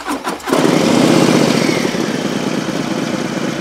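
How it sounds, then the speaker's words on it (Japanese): A Harley-Davidson Low Rider ST motorcycle engine cranks briefly, then fires up with a loud roar and settles into a rumbling idle. "まずこれエンジンかけてみるよ。"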